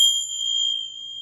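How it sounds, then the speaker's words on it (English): A Tibetan Tsang bell struck once, ringing with a pure, sustained high tone that holds steady and fades only slightly, alone in a quiet room. "And these are Tsang Bells."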